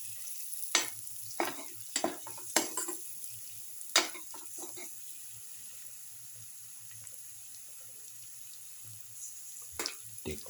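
A spoon scrapes and clinks in a pan while stirring scored boiled eggs with salt, giving several sharp, irregular strokes over a low steady hum, then a quieter pause and a couple of final scrapes.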